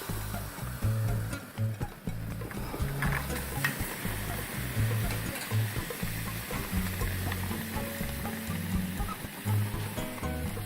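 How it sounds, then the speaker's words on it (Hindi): Hot tea poured into a clay cup heated for tandoori chai, bursting into a loud, steady sizzle and bubbling hiss that runs the whole time with no talking. "मैंने कप को अच्छे तरीके से दहका लिया है। ये कप को हमने दहका लिया। अब इसमें हम चाय डालेंगे।"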